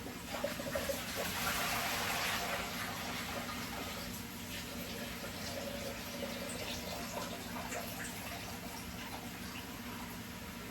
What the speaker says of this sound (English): Now it's time to wash the veggies.